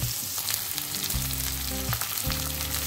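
Sliced medium-sized onions fry in hot oil in a pan, a loud steady sizzle with occasional stirring, no talking.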